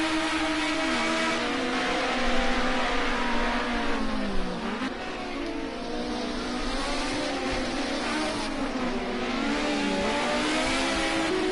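Group A touring cars racing at Snetterton, several engines revving loudly at once with overlapping rising and falling pitches as they accelerate and shift gears.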